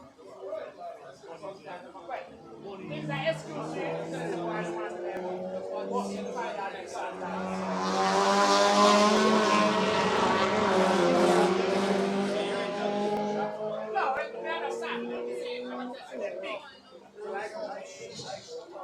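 Race cars at the JRDC Carnival of Speed 2025 battle into corner one. Engines drone steadily, then swell to a loud, close roar mid-clip and fade back.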